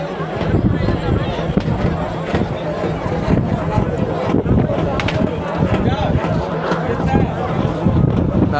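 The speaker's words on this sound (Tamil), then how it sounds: "சரியான காற்று, முடி கட்டுக்குள்ளே வரவே மாட்டேங்குது" Strong seaside wind at Kanniyakumari buffets the microphone in a steady, loud rumbling roar with gusty fluctuations throughout, and people talk over it.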